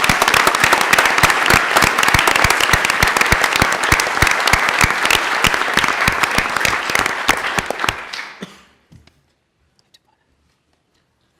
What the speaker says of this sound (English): I think we should give all of our winners and all the people that have inspired us here today another round of applause